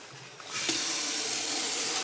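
Hot water runs from a tap on a winter farm in Finland, a steady bright hiss and splash that starts abruptly, holds for about a second and a half, then cuts off, close and without talking.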